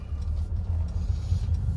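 A Mercedes C300 sedan on the move, heard as a steady low rumble of engine and road noise from inside the cabin, even and unbroken, with no talking.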